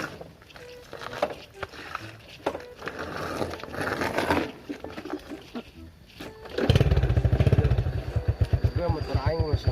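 Motorcycle engine idling and revving nearby, a rough, pulsing rumble that starts partway through and keeps throbbing loudly, with a crackly stretch of activity and voices before it.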